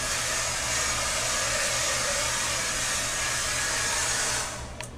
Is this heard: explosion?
no